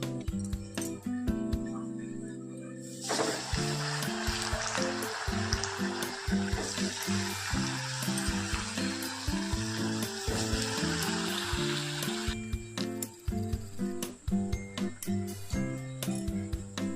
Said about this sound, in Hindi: एबे पिठा छाणीबा